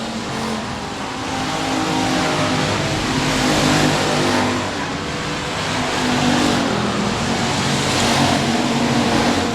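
Race cars roar around 67 Speedway of Texarkana, a dense, loud, continuous engine drone with gently swelling and fading waves as cars pass, heard from trackside.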